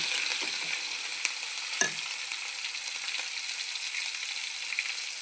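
Garlic, curry leaves and dried red chillies fry in hot oil with a steady, fine sizzle, broken by a couple of brief stirring clicks and scrapes, heard alone without any voice.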